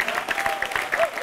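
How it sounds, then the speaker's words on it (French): A studio audience at a televised French-language show claps in a brief burst, with voices faintly underneath. "Et nous allons encore applaudir cette décision."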